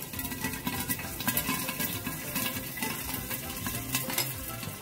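Cumin, mustard seeds and curry leaves sizzle steadily in hot oil for gatte ki sabzi, a dense continuous crackle with faint popping and a light stir of a spoon in the pan.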